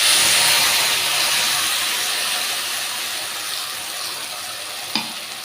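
Nigella seeds tempering in hot oil with mustard, poppy seeds and chili, a loud close sizzle that slowly settles into a softer steady hiss, with a brief clink near the end.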